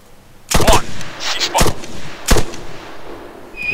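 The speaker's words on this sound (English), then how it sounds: "you see, you heard the bomb." Three loud, sharp bomb blasts from an ArmA 3 military game, about a second apart, each a booming broadband burst that tails off into a rumbling decay.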